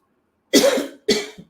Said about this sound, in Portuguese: agora deu um ataque de tosse aqui.